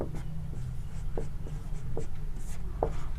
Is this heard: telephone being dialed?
no